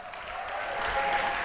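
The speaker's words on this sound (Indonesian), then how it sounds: "tepuk tangan untuk Bapak Yandi Chow" Applause from a studio audience on a TV show, a brief, steady patter of many hands clapping at moderate volume.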